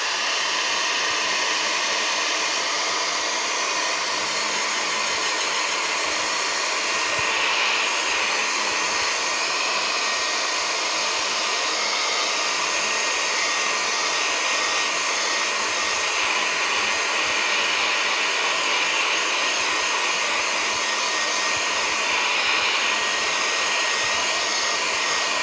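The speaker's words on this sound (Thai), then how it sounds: "ก็จะเป่าให้มันแห้งไปนะครับ" A hair dryer blows steadily on a painting, a continuous loud whooshing hiss that holds constant without pause.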